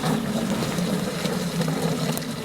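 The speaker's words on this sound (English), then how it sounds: "if you heard the initial little blast, that's it blowing the ice out of that little quick attach" Short burst of air forced through a garden hose quick-attach fitting to blow out ice during freezing weather, a steady loud rushing hiss that holds through the whole moment with no talking.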